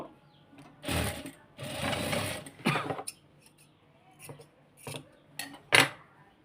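A sewing machine stitches rope piping for fabric flowers in several short buzzing bursts: two longer runs, then quick stops and starts with quiet gaps between.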